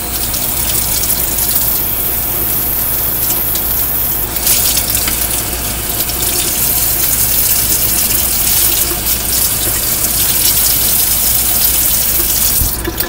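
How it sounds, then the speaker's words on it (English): Water runs steadily from a tap into a sink while soap is rinsed out of a makeup brush, a loud continuous gushing rush with small splashy changes as the brush moves under the stream. "I make sure I just rinse out the soap of it."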